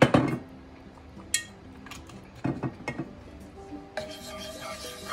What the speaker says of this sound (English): Mix the oil and butter together